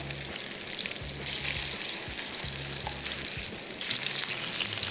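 Dhaga kababs fry in a pan over high heat just after being turned, giving a steady, bright sizzle and crackle throughout, with intermittent low humming bursts underneath and no talking.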